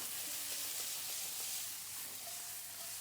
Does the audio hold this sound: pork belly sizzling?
yes